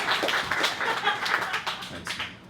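A small group claps in a brief burst of scattered applause for a practice wedding toast, several overlapping hand claps for a couple of seconds, with faint chuckling mixed in.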